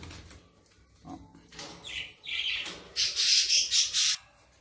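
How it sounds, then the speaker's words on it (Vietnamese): A grey-headed Pella parrot squawks in a cage, loud and close, in a run of harsh, rasping calls that ends in a burst of rapid repeated shrieks. "Thì đây là chú vẹt Pella nhà mình"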